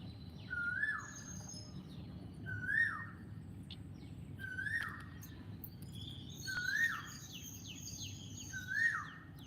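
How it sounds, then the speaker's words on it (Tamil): A sparrow repeats a short rising chirp about every two seconds, five times, with fainter sparrow chirps and twitters in the background over a low steady rumble. "அது குருவி சத்தம்"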